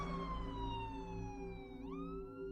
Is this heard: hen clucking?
no